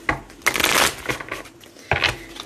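Tarot cards being shuffled by hand, several quick papery riffling bursts and slaps in close succession, near and fairly loud with no talking over them.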